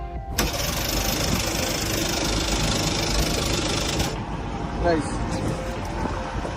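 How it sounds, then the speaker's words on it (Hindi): A lifeboat engine cranks and fires abruptly, then runs loudly and steadily for about four seconds before cutting out, leaving a quieter background. "बस फिर हमने सारे चेक्स करने के बाद इंजन स्टार्ट किया"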